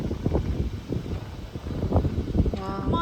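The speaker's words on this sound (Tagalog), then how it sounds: "Lakas ng hangin, guys." Steady wind buffets the microphone with low rumbling gusts throughout, loud and continuous, with faint tonal sounds near the end.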